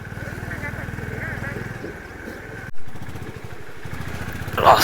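A motorcycle rides a narrow mountain road between Chitkul and Nako in Spiti Valley, its engine chugging in a steady, close pulse with a brief thump partway through.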